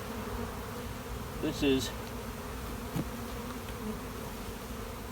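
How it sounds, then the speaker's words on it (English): Honeybees buzzing steadily in deep beehive boxes during spring colony expansion, a continuous close hum with someone briefly speaking over it. "I've got 2 deeps full of bees"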